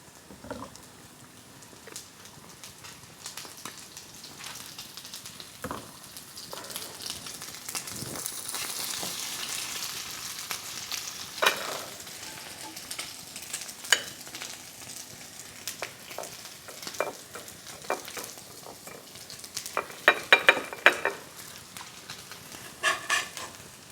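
Salmon patties made from home-canned salmon frying in oil, a steady soft sizzle with scattered crackles and pops that grow busier and louder toward the end, close by with no talk.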